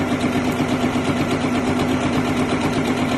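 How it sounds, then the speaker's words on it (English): A Janome sewing machine runs steadily through fabric, a loud, even mechanical whir with a constant hum and rapid stitching pulse, close up and uninterrupted, with no voices. "just as I start sewing"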